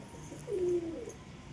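A single soft, low coo from a pigeon of good breed in a pigeon house, brief and close against a quiet background hum.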